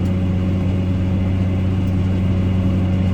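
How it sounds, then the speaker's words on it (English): Car exhaust booming and trumpeting out through an elbow that is starting to burn through, a steady low rumbling drone held at constant level throughout, close and loud with no talk. "the exhaust has got, well, I think it's just starting to burn through the elbow down there, so it trumpets out the top."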